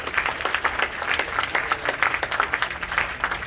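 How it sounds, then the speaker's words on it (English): A rally audience in Rockwall County breaks into dense, steady applause, many hands clapping together at close range with a lively, even rhythm throughout. "All right, before I thank you, Kenda, another big round of applause."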